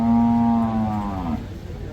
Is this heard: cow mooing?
yes